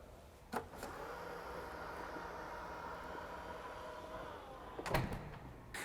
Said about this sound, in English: sweeping your foot under the rear corner of the car will trigger the tailgate to open or close